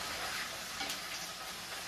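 Onions sizzling and frying in hot oil as a tempering for a three-dal sambar, a steady close crackling hiss with faint stirring, no voices.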